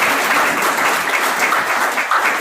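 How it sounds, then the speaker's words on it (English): A hall audience at a university induction ceremony applauds, dense continuous clapping that stays loud and steady throughout with no pauses. "Please, audience, give a huge round of applause."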